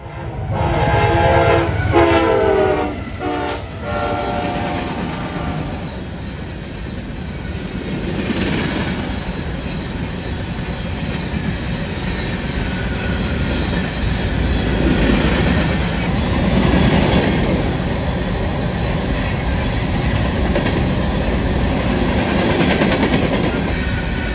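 A freight train in northern Ohio roars past close by, its horn blaring at the start, followed by a long, loud rumble of rolling wagons.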